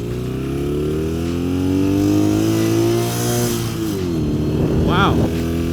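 BMW R68 motorcycle engine revving hard and accelerating, a loud close drone climbing steadily in pitch, briefly easing, then rising again with wind rush.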